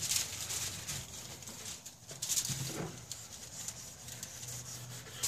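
A Mosin Nagant 91/30 wooden rifle stock is scrubbed gently during chemical stripping, giving quiet, uneven rubbing and rasping strokes against a low background hum.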